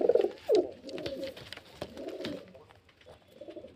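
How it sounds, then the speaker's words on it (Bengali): Pigeons for sale in Beldanga, including a black-eyed male, give repeated throaty coos close by, several rolling phrases with short gaps and a soft clatter of movement between them. "এই যে নর পায়রা কালো চোখের নর আছে।"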